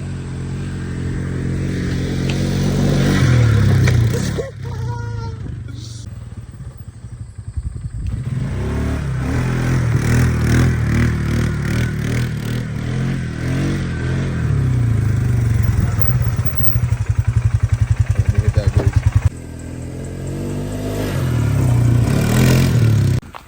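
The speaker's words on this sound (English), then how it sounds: "So today we have this Sportsman 450 Polaris all-wheel drive ATV." A Polaris Sportsman 450 all-wheel drive ATV engine runs loud and close, revving and clattering with rising and falling pitch and a brief cut near the middle before it picks up again.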